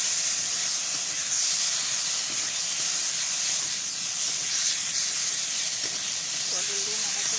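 Steady, loud sizzling hiss as pointed gourd is dropped into hot oil with garam masala, the frying noise continuous and close throughout.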